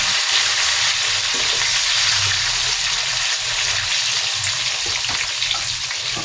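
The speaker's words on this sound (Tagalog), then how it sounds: "After ng tofu, isunod naman nating iprito yung mga talong." Sliced eggplant fries in hot oil, a steady, dense sizzle and crackle heard close up and continuing evenly throughout with no talking.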